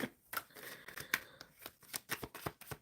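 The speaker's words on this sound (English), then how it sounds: "Sure, I'm shuffling for B." Tarot cards being shuffled by hand during a live reading, a quick run of crisp riffling snaps and soft slides in uneven bursts, close and fairly quiet, with no talking.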